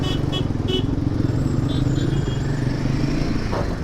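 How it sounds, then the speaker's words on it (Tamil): Motorcycle engine running steadily on a test ride through heavy traffic, a continuous loud drone throughout, with brief horn toots from nearby vehicles early on. "கொஞ்சம் லைட்டாக த்ராட்டில் கொடுத்தா கூட ஓவராக ஃபுல்லாக போகுது"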